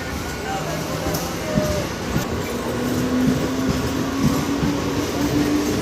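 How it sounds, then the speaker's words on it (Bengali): A passenger train pulls away from a platform with a steady rumble, rhythmic wheel clacks and a slowly rising metallic whine, close by, with faint voices underneath. "ট্রেনটা শুরু করে দিয়েছে,"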